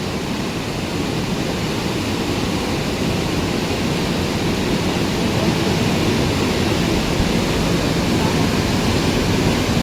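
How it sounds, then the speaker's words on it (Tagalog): Strong, fast river current rushing steadily, a dense broadband roar that holds constant and loud throughout with no breaks. "medyo malakas agos"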